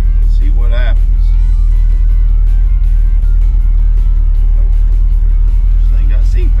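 A 1971 Ford F100 pickup truck driving down the road, its engine a loud, steady low rumble filling the whole stretch, with a voice briefly heard over it.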